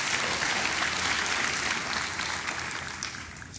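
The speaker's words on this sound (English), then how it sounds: "that deserves a cheer." A large conference keynote audience applauding and cheering, a dense sustained wash of clapping that holds steady and then gradually thins.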